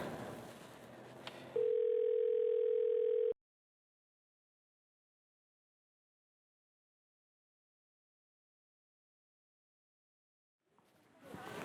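A telephone dial tone sounds as a call is placed to the police: a steady, loud single tone for under two seconds that cuts off abruptly into silence.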